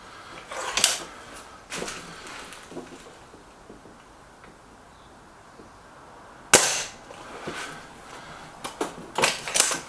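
A Crosman Silver Fox air rifle fires at a target, giving sharp, close cracks: one early shot, a second softer pop, then a loud report later, followed by quick mechanical clicks of recocking, with no talk.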